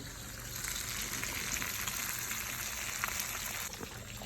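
Fish fins fry in hot oil in a home kitchen, a steady, faint crackling sizzle with no voices.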